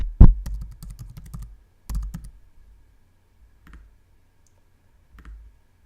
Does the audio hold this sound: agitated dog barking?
no